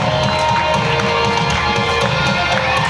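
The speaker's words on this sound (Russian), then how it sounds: "Аплодисменты Дамиру." An audience at a Tatar karaoke battle claps and cheers in a dense, continuous wash of sound over a low musical hum, the noise steady and loud throughout.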